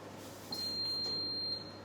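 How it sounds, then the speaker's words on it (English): A kitchen oven signals that preheating is done with a single faint, high electronic beep lasting about a second over quiet room noise. "My oven is preheated now, so that's the beeping."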